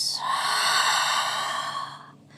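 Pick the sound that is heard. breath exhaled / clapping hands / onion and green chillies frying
breath exhaled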